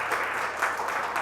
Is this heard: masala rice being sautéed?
no